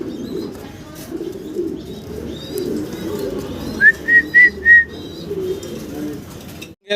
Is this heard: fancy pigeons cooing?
yes